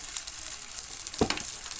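Chicken shami kebab patties sizzling in oil in a pan just after being flipped, a steady close frying hiss with a brief louder crackle partway through.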